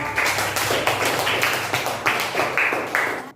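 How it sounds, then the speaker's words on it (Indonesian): A classroom of students applauds a group, dense rapid clapping from many hands filling the room, fairly loud and continuous throughout. "beri tepuk tangan untuk kelompok"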